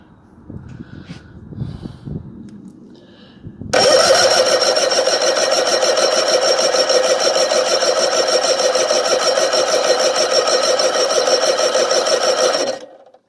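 After a few seconds of quiet shuffling, a 51-year-old Chrysler 85hp outboard motor cranks over loudly and steadily during a compression test in a fast, even rhythm for about nine seconds, then stops.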